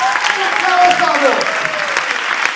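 An audience applauds loudly and steadily at a training forum, with voices audible through the clapping.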